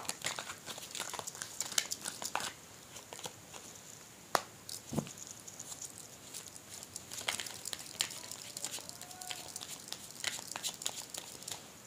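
Tarot cards are shuffled and drawn during a Hindi card reading, giving close, quiet crinkles, flicks and soft snaps in an irregular patter, with no voice over them.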